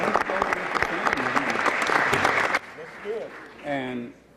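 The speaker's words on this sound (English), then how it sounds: "Give them all a round of applause and present them." Audience applause at a tribute event, loud and dense for about two and a half seconds before cutting off, followed by brief talking voices.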